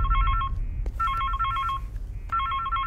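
A mobile phone ringing close by with a repeated electronic trilling tone, sounding in three bursts separated by short pauses.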